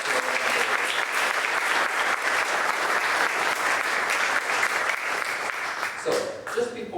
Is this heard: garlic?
no